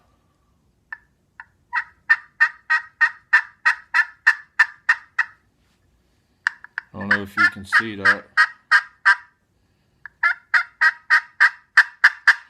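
A 3.5 inch turkey pot call played lightly gives a series of raspy yelps with rollover in steady rhythmic runs, close and clear. Someone briefly talks over the middle run.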